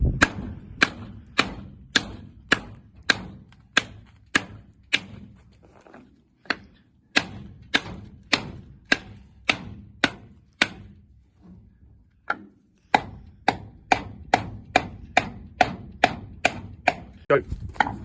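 A hammer strikes a block of hardwood to drive the pistons down in a Singer Vogue engine, producing sharp, evenly spaced knocks in two long runs with a brief pause between, close and crisp.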